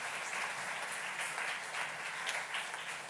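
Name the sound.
audience applause in church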